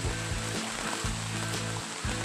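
Fast-rising floodwater rushes past a hut during a flood after a night of rain, a loud continuous broadband roar with a throbbing low rumble that pulses roughly every half second.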